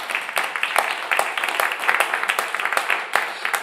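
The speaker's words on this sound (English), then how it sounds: "how about one more round of applause for Ashley," Audience applause for a live country or folk performer at a radio show taping, a steady patter of many hands with sharp individual claps standing out, moderately loud and sustained throughout.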